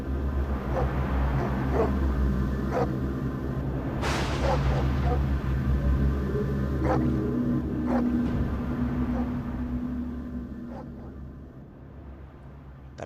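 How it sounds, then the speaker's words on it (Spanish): Dogs across a rural mountain district bark at night as a radio drama effect, scattered yips and barks near and far over a low rumbling background, continuing steadily before fading toward the end. "el alboroto de los perros de la comarca que no cesaron de ladrar en toda la noche"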